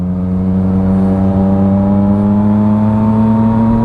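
A Yamaha MT-09 three-cylinder motorcycle engine drones loudly and steadily, its buzzing tone climbing slightly as it revs.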